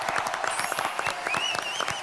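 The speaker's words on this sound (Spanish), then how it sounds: "Así que fuerte aplauso para él." Studio audience applause at a televised Peruvian cooking competition show, a steady dense wash of clapping with a few whistles and cheers rising through it, loud and continuous.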